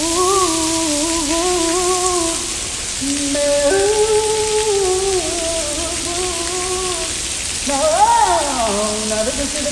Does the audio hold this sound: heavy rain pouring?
yes